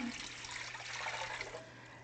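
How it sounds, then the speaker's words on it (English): Water streams steadily into a cooking pot in a home kitchen, a continuous close pour with a broad splashing hiss and no talking. "you're going to put in your water into your pot"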